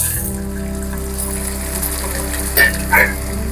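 Vegetables sizzle steadily in hot spiced oil in a home kitchen, a close, constant frying hiss with two brief clinks near the end and no voices.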